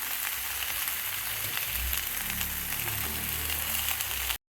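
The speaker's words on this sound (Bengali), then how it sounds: "এবারে পুঁই শাকগুলো দিয়ে দেবো, দিয়ে ভালো করে এবার কষাতে হবে।" Malabar spinach frying in a pan with spices, a steady hiss of sizzling under a low background rumble, ending abruptly.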